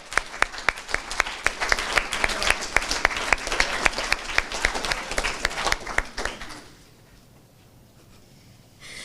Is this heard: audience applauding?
yes